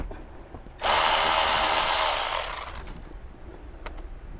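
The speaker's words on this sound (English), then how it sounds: "we're going to go on the 7mm socket to remove this bolt" A power tool driving a 7mm socket to remove a bolt from a car, a single loud whirring burst of about two seconds that tapers off, followed by quiet clicks and handling noise.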